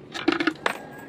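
Token dropped into a coin-operated car wash machine: a quick run of metallic clinks as it tumbles through the slot, then a single sharper clack, close and fairly quiet.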